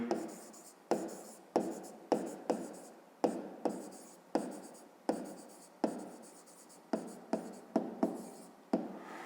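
A pen writes by hand on paper in a school maths exercise, making repeated short scratchy strokes in an even rhythm, each stroke starting sharp and trailing off, with brief pauses between them.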